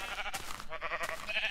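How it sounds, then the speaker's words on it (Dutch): Sheep bleating in the Minecraft video game, a few short wavering bleats close together over a steady background of game ambience. "heel veel schapen, echt overal schapen"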